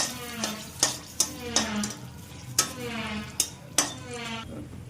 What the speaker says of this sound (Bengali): তেলটা গরম হয়ে গেছে। এবার শুকনো লঙ্কা দিয়ে দিলাম।